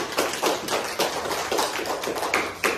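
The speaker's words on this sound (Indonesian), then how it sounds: "Berikan aplaus untuk kelompok 3." Classroom applause for a student group in a biology lesson, a burst of clapping with steady rhythmic claps throughout, loud and close.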